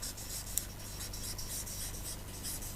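Chalk or marker scratching words onto a classroom board during a primary English lesson, with steady continuous rubbing strokes close by, no talking.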